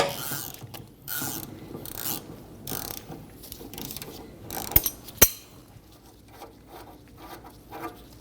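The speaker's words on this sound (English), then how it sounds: "we're going to hold the stud for our sway bar link. And remove the nut." A ratchet clicks in quick bursts while the sway bar link nut is removed from the rear suspension of a Volkswagen Passat. Two sharp metallic clanks stand out in the middle, and the whole sequence is moderately quiet with no talking.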